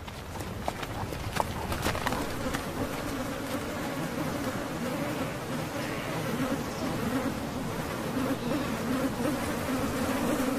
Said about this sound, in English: More than 35 species of biting insects feast in the endless daylight.